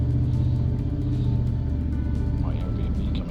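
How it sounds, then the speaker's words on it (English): A big motorbike engine rumbles steadily and loudly while riding through a small Greek mountain village, a continuous low drone with slight shifts in pitch near the end. "You must have heard the motorbike coming."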